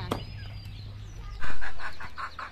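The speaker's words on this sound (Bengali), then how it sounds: "সকালবেলা মুরগি বাচ্চাগুলো ছাড়িয়ে দিছে।" Chickens and chicks let out into a village yard in the morning cluck in a quick run of short, rhythmic calls close by, after a quieter stretch of faint yard noise.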